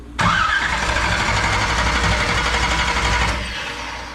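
A 1969 Camaro with a 496 big-block engine fires up for the first time, catching abruptly into a loud, steady, rough roar that holds for about three seconds before dropping to a lower, quieter run.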